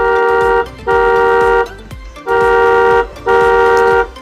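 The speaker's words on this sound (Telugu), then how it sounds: "నేను ఇక్కడ హార్న్ బటన్ అయితే క్లిక్ చేసి చూపిస్తాను" A children's electric ride-on toy car horn button sounds a steady electronic tone four times, each blast lasting under a second with short gaps between them, loud and close with no talking.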